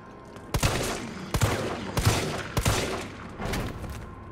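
Gunfire in the video game Resident Evil 3: four loud, evenly spaced shotgun-like blasts, each with a sharp crack and a short reverberant tail, followed by a softer fifth report.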